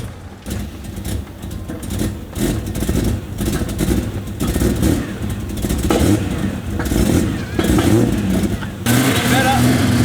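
A wagon car engine running on E85 fuel, revving repeatedly in loud uneven bursts close by, with people talking over it.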